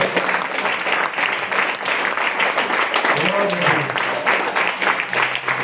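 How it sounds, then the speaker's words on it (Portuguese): A church congregation applauds continuously, dense clapping throughout at steady strength, with voices audible over it. "Você pode aplaudir ao Senhor?"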